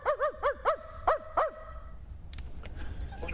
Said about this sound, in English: What are we barking about?